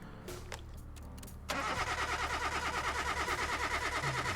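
Engine cranking over in Car Mechanic Simulator 2018 during a compression test, a steady rhythmic starter-motor churn that starts abruptly and runs loud and even after a quieter stretch of faint clicks.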